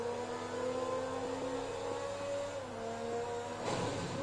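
A powerful car in Forza Motorsport 3 revs its engine in a steady, sustained whine that rises and shifts pitch through gear changes, loud and continuous with no talking.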